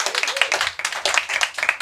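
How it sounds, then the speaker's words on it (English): An audience at a book launch claps for nearly two seconds, a steady patter of many hands with a few sharper, closer claps standing out. "So huge round of applause for her."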